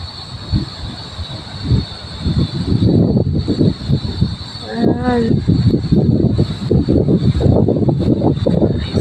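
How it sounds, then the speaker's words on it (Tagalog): Strong typhoon wind gusting at Infanta, Quezon, with a loud, continuous roar and blustery surges that buffet close to the microphone, and a person speaking briefly partway through. "Dumaan na naman yung napakalakas na hangin."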